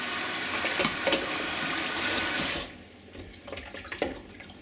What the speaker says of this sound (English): Wash them in nice clean water.